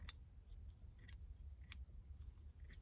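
A few crisp, light snips of small scissors, spaced apart in an otherwise quiet room.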